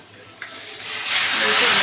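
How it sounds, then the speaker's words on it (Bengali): Prawn fritter curry being stir-fried in a pan: a faint hiss swells into a loud, bright, steady sizzle that fills the last second, with a couple of light scraping touches before it. "এইবার এটা ভালো করে কষতে হবে।"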